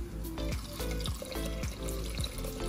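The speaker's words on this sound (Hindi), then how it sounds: "अब हम डालेंगे इसके अंदर पानी" A cup of water is poured into a pot of roasted moong dal, making a steady, close splashing and trickling stream that runs continuously without any talk.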